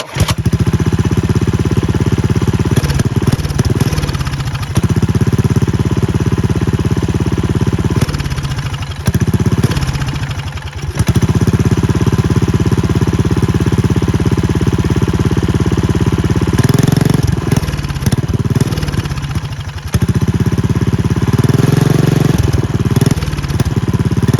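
A budget minibike's small engine with an upgraded carburettor and exhaust runs loud and close. It chugs steadily but stumbles and dips several times, as if close to stalling, before it picks up again.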